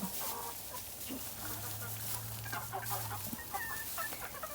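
Chickens cluck softly close by, with a longer drawn-out low call in the middle and scattered bird sounds in the background.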